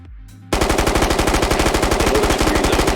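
A light machine gun fires in the VR shooter Ghosts of Tabor, a loud, rapid, evenly spaced burst of shots that starts abruptly after a brief quiet moment and runs steadily to the end.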